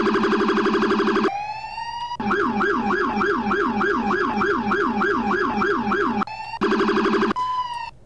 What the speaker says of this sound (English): this has its sirens. But this one has two rumblers.